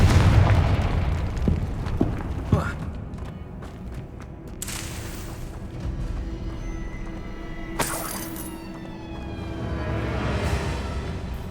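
Confringo spells explode in the Hogwarts Legacy video game, sending out repeated booming blasts with bursts and shattering debris. Two sharp, strong hits stand out above the continuous rumble.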